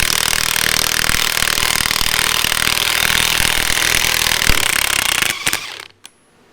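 A wrench tightens a bolt on a Cobra's independent rear suspension with loud, close, continuous rapid ratcheting and grinding. The noise cuts off sharply near the end and is followed by near silence.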